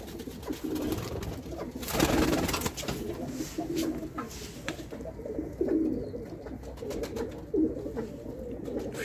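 Racing pigeons coo in a loft, with repeated low throaty calls from several birds close by, mixed with scattered fluttering and shuffling.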